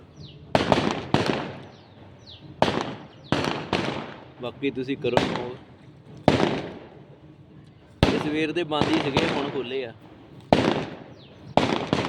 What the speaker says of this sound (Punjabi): ਹੁਣ ਸੁਣਨਾ ਸੁਣਨਾ ਕੋ ਨਹੀਂਗਾ ਕਿਉਂਕਿ ਪਟਾਕੇ ਚੱਲਦੇ ਪਏ